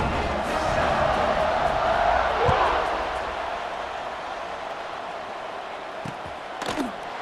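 Stadium crowd roars steadily at a college football game in EA Sports College Football 26, a broad wash of cheering that swells early and then eases, with a few brief sharper shouts near the end.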